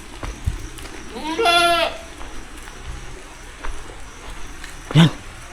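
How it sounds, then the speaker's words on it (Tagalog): Goats bleat in a cemetery in Argao, Cebu, at night during rain: one long, wavering bleat rises clearly over quiet ambience, followed later by a shorter, sharper bleat near the end. "Ang dami mga kanding dito."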